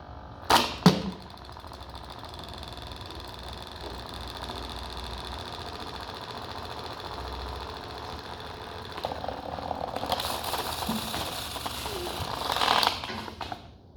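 A small motor in a toy washing machine whirs steadily and fairly faintly, with a clatter near the start and a louder, rougher mechanical rattle toward the end.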